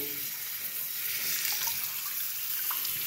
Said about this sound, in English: I'm just going to go ahead and run some water over it and wash it wash it thoroughly